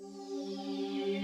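Spacey Hive synth pad treated with reverb, chorus and flanger, a sustained chord of bright stacked tones that slowly sweeps and shimmers, quiet and alone.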